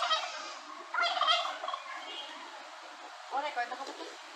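Turkeys gobble outdoors in a couple of rapid, warbling bursts, fairly faint and somewhat distant, mixed with a muffled voice in the background.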